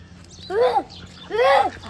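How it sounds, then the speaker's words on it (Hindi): Ducks quacking nearby, two loud, drawn-out calls about a second apart, each rising and falling in pitch, over a low background hum. "डक्स।"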